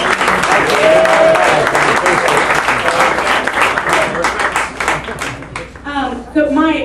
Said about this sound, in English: give a round of applause for themselves